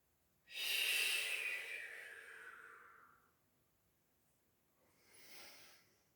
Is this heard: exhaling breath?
yes